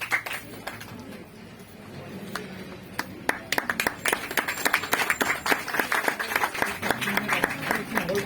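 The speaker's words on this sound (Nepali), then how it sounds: "लगाइसकेपछि सबैले ताली बजाइदिनु होला।" Wedding guests break into applause once the ring is put on, scattered claps building into a dense, lively round of clapping in a room.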